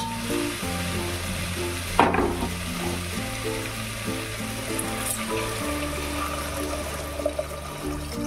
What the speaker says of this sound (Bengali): এবারে আমি দিয়ে দেবো পরিমাণ মতন জল।